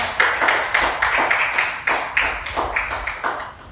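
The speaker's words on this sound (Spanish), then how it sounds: "Un aplauso al Señor." A church congregation breaks into steady, rhythmic applause, many hands clapping together in a regular beat at close, full volume, with no talk over it.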